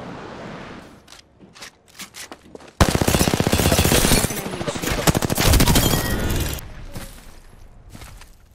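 Rapid automatic gunfire bursts in the shooter game Apex Legends, loud and close, starting abruptly after a quieter stretch with scattered shots and continuing in dense volleys for several seconds before tapering off.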